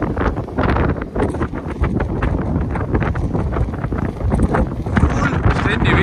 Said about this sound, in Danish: Og nu er den oppe på 28-30 knop i vinden.